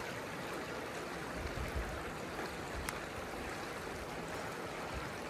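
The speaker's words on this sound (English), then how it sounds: "that's the river." A river flows in a steady, broad rush of water noise, continuous and fairly even throughout, with no voices.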